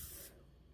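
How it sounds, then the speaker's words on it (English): A bottle of 1988 Dior Fahrenheit fragrance lets out one short, forceful pressurized spray, a close hiss that cuts off after a fraction of a second and leaves faint room tone. "That came out like a pressurized sprayer."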